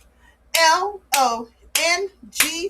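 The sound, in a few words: children clapping out the syllables of a word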